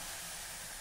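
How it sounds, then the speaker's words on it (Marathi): Water coming to a boil in a pot, meant for a buttermilk rice-flour ukad: a brief, steady, soft hiss with a low, bubbling undertone, and no voices. "हे पाण्याला उकळी आली।"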